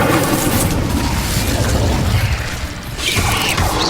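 A fire spell cast in the video game Hogwarts Legacy, a dense roaring burst with crackling flame that stays loud and continuous for several seconds, dipping briefly before swelling again.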